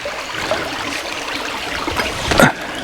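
River water runs at a shallow crossing on the Gibb River Road in the Kimberley, Western Australia: a steady, close rushing and trickling, with a brief louder splash near the end and no talking.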